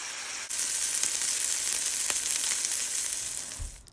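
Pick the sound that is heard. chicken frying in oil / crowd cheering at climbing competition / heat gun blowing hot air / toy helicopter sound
chicken frying in oil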